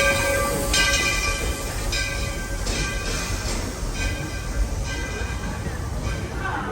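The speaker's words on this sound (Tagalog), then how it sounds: "So nandito na kami ngayon sa train." Disneyland train running toward Frontierland, a steady rumbling ride with clacking and a rhythmic series of tonal pulses over continuous rolling noise, close and fairly loud.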